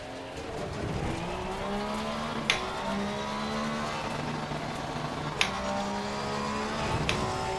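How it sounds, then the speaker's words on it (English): A race car's engine drones steadily through a lap at Zolder in a racing game, its pitch shifting with throttle, and three sharp knocks mark the car hitting the wall. "I just hit the wall again."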